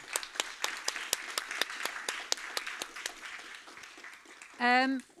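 Applause with distinct, fairly sparse claps that gradually thin out, followed by a brief voice at the end.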